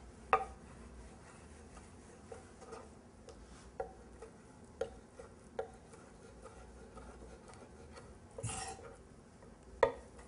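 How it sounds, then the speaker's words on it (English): A knife slices a fish fillet into thin pieces for ceviche, with faint, irregular taps of the blade on a cutting board in a quiet room. "Next step is to slice it into thin slices."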